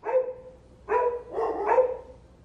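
Two pugs, one of them a portly female, bark in three short, close bouts with yippy, whimpering edges and brief pauses between them.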